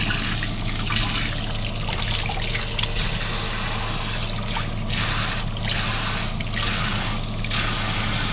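Hot water runs steadily from a tap into a newly plumbed kitchen sink in a house under construction, a constant close trickle and splash with no talking over it.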